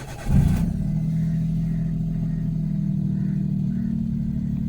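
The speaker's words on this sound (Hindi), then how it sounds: "एक बार इंजन चालू करके देखते हैं कैसी साउंड आती है।" A 2006 Maruti Alto's 800cc MPFI petrol engine cranks and catches, then settles into a steady, fairly loud idle with an even hum close by; no talking.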